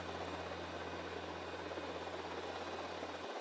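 Steady helicopter rotor and engine drone from the video game GTA Vice City, continuous and fairly loud, with a constant low hum and no voices over it.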